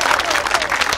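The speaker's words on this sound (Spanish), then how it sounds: "Regálenle un aplauso al Cholo Víctor, señores." Loud, close audience applause with crowd noise as a comedian is introduced on stage, rapid dense clapping throughout with a voice briefly audible underneath.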